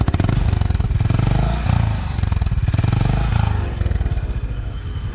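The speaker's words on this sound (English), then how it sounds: "let me show you what the exhaust note is like" A Honda CB350 RS motorcycle's exhaust note thumps away in a loud, gruff, steady idle and rev, a continuous rapid pulsing throb recorded close to the pipe with no talk.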